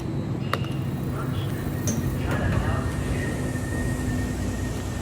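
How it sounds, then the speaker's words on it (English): San Francisco Central Subway train approaching an underground platform, a loud sustained rumble with metallic squeals and clanks, heard close and without talk. "we actually have an approaching train which we're going to jump on"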